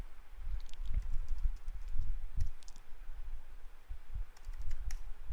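Typing on a computer keyboard while entering a database username during a server setup: steady irregular keystroke clicks, close and moderately loud, with no talking.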